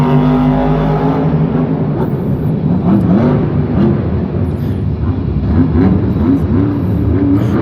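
A Monster Jam monster truck revs hard at an arena event in Lyon, France, its loud, rough engine rising and falling in repeated throttle bursts that fill the whole stretch.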